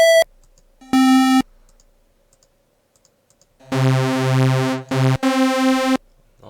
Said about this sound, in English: that's old school brass Jupiter sound